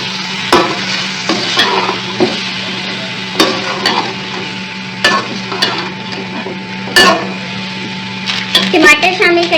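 Chicken with onion, ginger and garlic sizzles steadily in a pan for layered chicken biryani, with sharp clanks and scrapes of a stirring spoon recurring every second or two and a louder clatter at the end.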